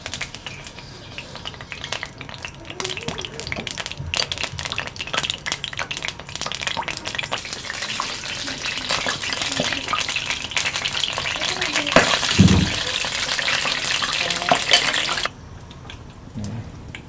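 Sweet bora fritters sizzle in hot oil in a pan, a dense, loud frying hiss that builds and holds with occasional utensil clinks before cutting off near the end.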